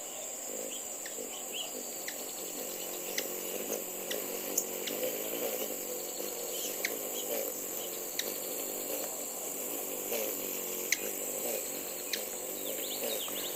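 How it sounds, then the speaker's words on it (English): Small birds giving squeaky, twittering chirp notes, repeated in short scattered bursts over a steady insect-like buzzing background, moderately close and without talk. "you hear those little squeaks and those little twitters? Those are called chirp, chirp notes"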